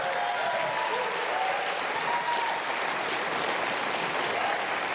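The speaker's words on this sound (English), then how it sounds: "How about a little hand of applause for this great band over here" Studio audience applauding a live band on a talk show, a dense, even wash of clapping from a large crowd, sustained at a steady level for the whole stretch.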